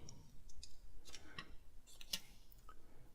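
Protective plastic film is peeled off an iPhone X box: faint crackly clicks and soft tearing rustles come in short bursts close up, with no talk.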